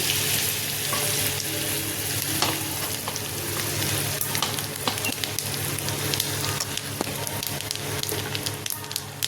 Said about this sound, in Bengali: এই তেলের সাথে একটু বাটার দিয়ে দিলাম এটা দিয়ে দিচ্ছি ফড়মে মৌরি আর জিরে